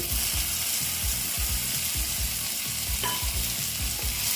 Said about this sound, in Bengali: দেখো এখন আমি দিয়ে দেবো টমেটো কুচি